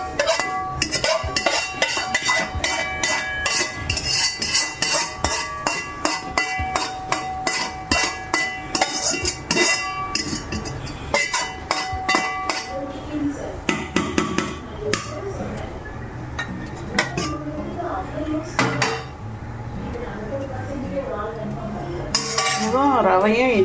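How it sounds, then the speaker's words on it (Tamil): A spoon stirs paneer and onion into paniyaram batter in a bowl, making a dense run of rapid metallic clinks and scrapes, with someone talking over it. "இதில் கொட்டி கிளறிக்கிறேன்."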